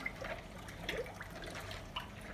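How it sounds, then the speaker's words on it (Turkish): A spoon stirs homemade lemonade of lemon, water and sugar, giving faint swirling liquid sounds with a few light metallic clinks against the container. "Güzelce kaşık yardımıyla iyice karıştıralım."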